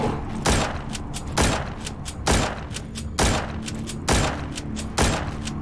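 Gunfire in The Walking Zombie 2, heavy booming shots fired one at a time at a steady pace of roughly one per second, loud and close with a low rumble between them.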